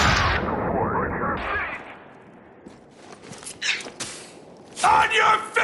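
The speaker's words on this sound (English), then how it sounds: "Throwing flashbang!" A flashbang blast rings out in Spec Ops: The Line, followed by scattered gunfire bursts and sharp shots, loud and near, with shouted voices mixed among the combat.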